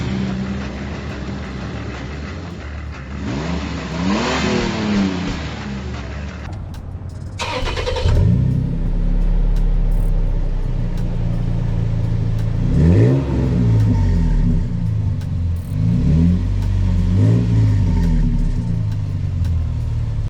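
A 2006 Toyota Tacoma with a Flowmaster exhaust revs repeatedly, a deep rumbling idle rising into several loud throaty swells, recorded before and after the exhaust change, with no talk.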